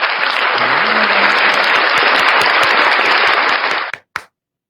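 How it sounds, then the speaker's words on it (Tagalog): Dense, loud applause from a crowd of people clapping steadily for about four seconds, then cutting off abruptly with a couple of last isolated claps. "ba't palakpak ako ng palakpak?"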